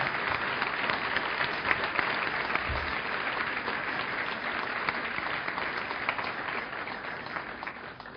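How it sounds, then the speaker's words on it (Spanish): Sustained, dense applause from a large congress audience at the closing ceremony of an agricultural association's congress, a steady, even roar of many hands clapping with no letup and no talk over it. "para ellos pido un gran aplauso"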